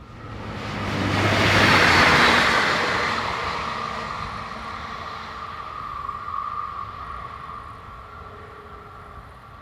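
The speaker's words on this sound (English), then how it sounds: "Shortly after, diesel railcar number 5047050 passes with the 1708 from Maria Lanzendorf to Wiener Neustadt." Austrian diesel railcar passing on a regional line near Wiener Neustadt, a rushing rumble that swells to a loud peak within seconds, then fades slowly into the distance, with no voices.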